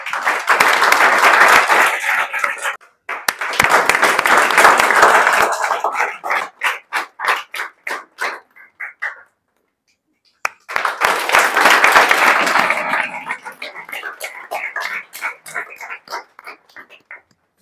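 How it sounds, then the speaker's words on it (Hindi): Audience clapping for students celebrating JEE Main exam results, loud bursts of hand claps that fade into scattered individual claps, then swell again, with brief voices between. "तो इसके लिए आप लोग ताली बजा सकते हैं।"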